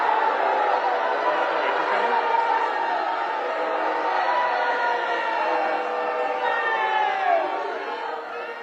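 Loud, dense crowd noise from a political audience booing a speaker, a sustained roar of many voices filling the whole stretch without pause before easing slightly near the end.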